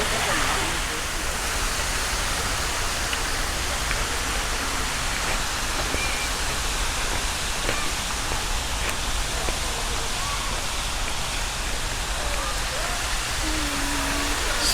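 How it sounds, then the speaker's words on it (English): Steady, broadband rushing and splashing of churning water from an aerated pool fountain, loud and continuous, like a fountain pouring into a pool, with faint voices underneath. "And this is what they call the aerated pool."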